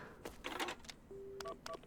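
Phone being dialed in the Paranormasight video game: a short run of electronic keypad tones and beeps, with a sustained dial tone partway through, heard alone and fairly close.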